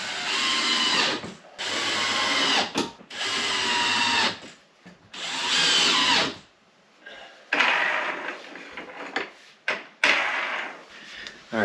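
Power drill driving screws into a new garage-door track, several bursts of whirring with short pauses between them, close and loud, no talking.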